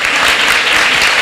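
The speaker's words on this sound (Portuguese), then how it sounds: "Então vamos aplaudir Jesus?" A church congregation bursts into steady, dense applause, loud and continuous throughout, with no voices rising above the clapping.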